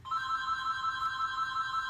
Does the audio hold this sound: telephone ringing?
yes